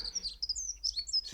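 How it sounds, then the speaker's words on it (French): Dunnock song: a thin, high, rapid warbling phrase of jumbled twittering notes, faint and fairly distant, heard alone against quiet background with no talk. "un accenteur mouchet."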